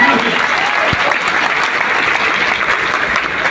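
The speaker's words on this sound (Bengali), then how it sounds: "জোরে একটা হাততালি চাই।" Loud, dense audience applause at a Bengali talk on natural medicine, a continuous wash of many hands clapping close and steady throughout.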